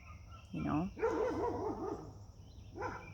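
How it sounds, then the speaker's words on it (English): A dog barks at a suspected predator, giving a couple of yips and a drawn-out, wavering bark-whine at moderate distance, then a final short bark, with faint background hiss. "Miss Hedda is barking"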